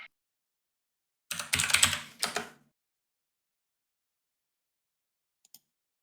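A short burst of rapid typing on a computer keyboard during an online review session, clicking closely for about a second before silence returns, with one faint tap later.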